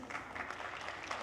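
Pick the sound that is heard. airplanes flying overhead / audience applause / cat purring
audience applause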